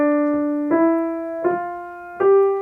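A piano plays a smooth scale with all fingers, four notes stepping upward one after another, each connected to the next and sounding close and clear with no talk over them.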